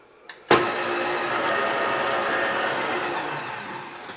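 KitchenAid stand mixer beating matcha green tea cupcake batter, starting abruptly with a steady, loud motor whir and bowl churn that runs continuously without talk.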